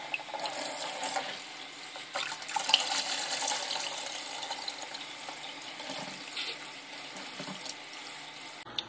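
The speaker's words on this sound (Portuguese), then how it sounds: "Essa aqui é a primeira lavagem. Eu vou jogar fora essa água." Water from the first rinse of aquarium substrate for an African cichlid tank pours out in a steady, fairly quiet splashing stream into a pot set over a drain, continuous for several seconds.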